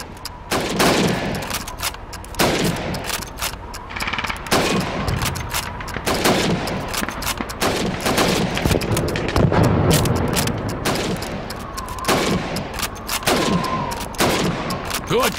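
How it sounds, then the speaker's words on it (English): Rifle fire at helmets during Red Army training in Call of Duty 2, a rapid series of loud, close gunshots in quick succession with short gaps between bursts, under faint background noise. "You have 15 seconds to shoot the helmets."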